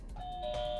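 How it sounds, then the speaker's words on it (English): A game-show style buzzer gives a short, clear doorbell-like electronic chime, rising to a second tone, heard alone at moderate level. "Doorbell"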